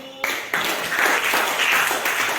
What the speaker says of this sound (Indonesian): Tepuk tangan dulu untuk pembelajaran kita hari ini.